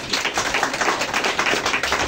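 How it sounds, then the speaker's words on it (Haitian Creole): A church congregation claps together in sustained, dense applause, loud and close, with no talk over it. "c'est un gros applaudissement"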